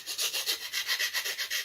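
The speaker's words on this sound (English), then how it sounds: "Just want a little bit of sanding." Sandpaper rubs back and forth over the front cowling of a Guillow's Bird Dog model airplane, a close, steady rasping in quick regular strokes of about six per second, alone with no voices.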